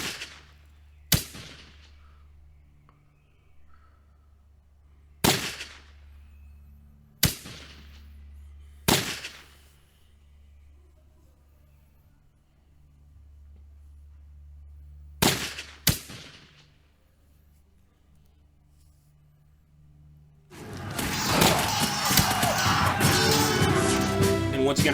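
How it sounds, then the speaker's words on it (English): Musket volleys crack out in a Rise of Prussia battle around a besieged fortress, six or so sharp separate reports a few seconds apart over a low drone, ending in a dense, noisy roar. "Fire those muskets, boys."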